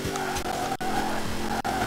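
A car drifting in the racing game Forza Horizon 4, engine droning with squealing tires through the slide, a loud steady rush broken by two abrupt brief gaps.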